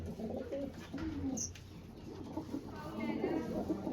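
Pigeons in a loft cooing softly, with several low coos repeating through the clip amid faint background noise and some other voices.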